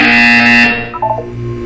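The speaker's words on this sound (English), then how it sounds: "You will hear a buzzer. When you hear the buzzer, look up at the ceiling." Test chamber buzzer in the video game Portal 2, a single loud, harsh electronic buzz that cuts off abruptly and leaves a brief fading tonal tail, with no speech.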